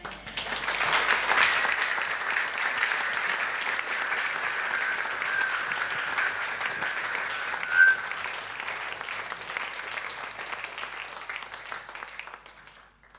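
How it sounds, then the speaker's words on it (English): An evening show audience claps for a performer in a broad, sustained wash of applause that swells early, holds steady with a few whoops, and gradually thins toward the end. "Give him one more hand of applause, Teddy."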